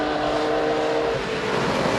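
Engine of an old Tornado Evo 1 cross-country race buggy at a British Cross Country Championship meeting, droning steadily and fairly loud throughout with a constant mechanical hum, no voices.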